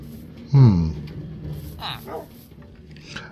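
A dog in a Minecraft-style video game gives a sharp bark followed by a couple of softer yips and whimpers, while someone talks intermittently around the sounds.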